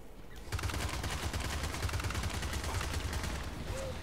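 Rapid gunfire from a small submachine gun in a shooter video game, a dense run of loud shots that starts after half a second and keeps going almost without a break to the end.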